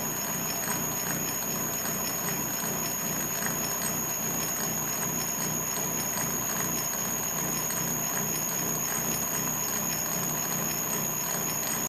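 A milling cutter hobs a helical gear in a workshop, producing a steady, continuous metallic whir and fine ringing chatter that stays even throughout without pauses.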